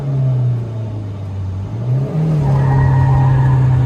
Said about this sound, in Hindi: ज्यादा ही व्हील स्पिन हो गया।